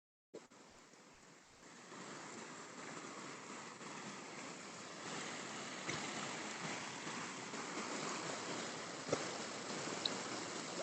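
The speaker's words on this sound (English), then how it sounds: "So you could just see a little bit of the water flowing." Water flows gently over lava formations outdoors, a soft steady broadband rush that swells slightly after a couple of seconds, faint and continuous with a few small knocks.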